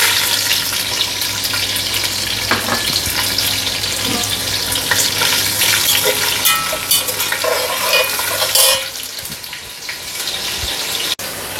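Thinly sliced onions frying in a pan for a meal maker pulav, a loud steady sizzle with frequent stirring scrapes, easing slightly in the last few seconds.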